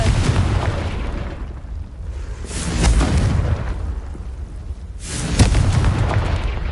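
Heavy booming blasts from the Confringo explosion spell in Hogwarts Legacy, three loud rumbling bursts spaced a couple of seconds apart, each swelling and fading into a low roar.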